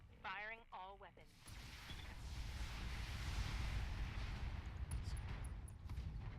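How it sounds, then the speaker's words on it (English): A BattleMech in the game BattleTech fires all its weapons in a long roaring barrage of gunfire and blasts after a short electronic voice, with sharp metallic pings near the end. "Firing all weapons."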